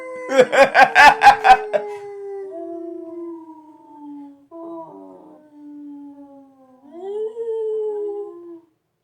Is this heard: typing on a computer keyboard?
no